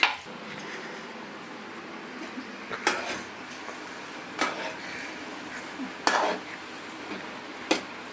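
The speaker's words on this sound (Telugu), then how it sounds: "చికెన్ మిగిలిందంతా కూడా ఇదే విధంగా ఫ్రై చేసేసుకుందాం" Gongura chicken fries in a pan with a steady low sizzle, broken every second or so by sharp scrapes and clinks of a spatula against the metal.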